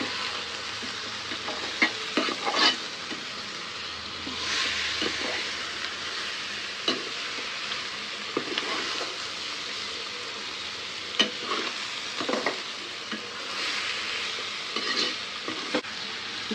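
Chicken frying with browned onions, chilli powder and turmeric in a pan, a continuous hiss of sizzling broken by repeated scraping strokes of a stirring spoon, close and without speech.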